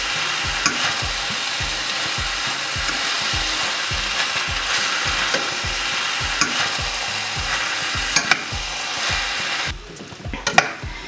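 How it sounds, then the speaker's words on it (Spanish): Ground beef picadillo being stirred in a pan with seasonings, a steady repeating scrape of the spoon over a constant frying sizzle, close and fairly loud, with a few clinks near the end. "Voy a revolver esto con los condimentos que acabo de poner."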